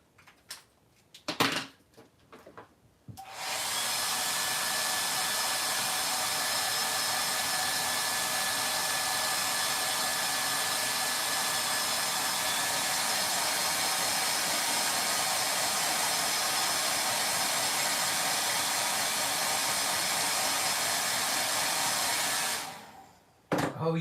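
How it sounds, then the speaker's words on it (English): A handheld blow dryer runs steadily and loudly for about twenty seconds, drying Posca paint drawn on Air Force 1 sneakers, switching on and off with brief clicks at either end. "Get the blow dryer out again."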